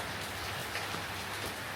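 Steady, dense heavy rain patters over everything in rural Thailand countryside at night, a constant hiss of drops on trees and a roof with no other sounds.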